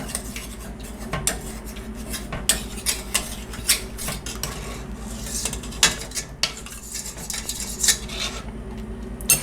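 Two metal spoons mash chocolate pudding in a dish, producing close, irregular clinks and scraping rubs of cutlery against each other and the bowl, with no talking.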